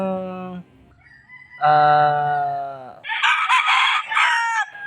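Several gamefowl roosters crow one after another at a game farm, loud nearby calls with long drawn-out cock-a-doodle-doo phrases, the later crows higher and overlapping.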